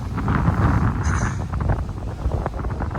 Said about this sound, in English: It's a crummy, cold, windy day